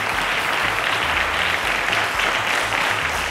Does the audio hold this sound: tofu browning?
no